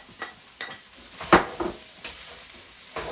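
Egg and green onion frying in a pan as they are stirred together: a soft sizzle broken by several scraping stirs and light clinks of utensil on pan.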